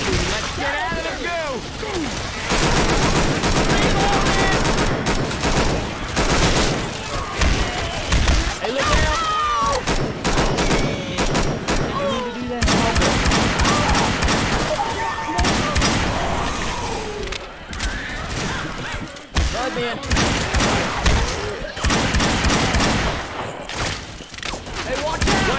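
Rapid, near-constant gunfire fills a Left 4 Dead 2 Swamp Fever battle, with bursts of shots and booms and brief gaps, while voices talk over the shooting.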